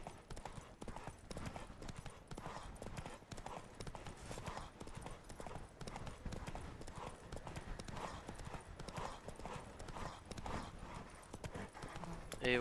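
Horse hooves clip-clop in a steady, continuous rhythm while riding in The Witcher 3: Wild Hunt, a dense run of hoofbeats over low ambient rumble with a faint whinny possible.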